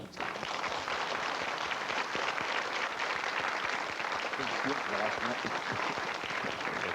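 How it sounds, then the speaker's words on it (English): A studio audience on the game show Countdown breaks into sustained, dense applause that holds steady throughout. "give it a round of applause"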